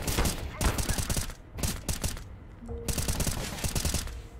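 M4A1 rifle fire in a CS:GO match crackles in rapid, closely spaced bursts with brief pauses between strings of shots, loud and close throughout.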